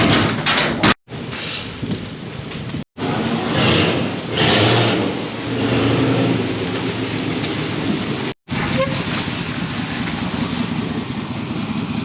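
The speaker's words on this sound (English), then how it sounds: "Four-wheel skid." A car four-wheel skids across an icy road during an ice storm, giving a continuous loud rumbling, crackling wash of tire and ice noise that runs for the whole stretch with a few brief dropouts.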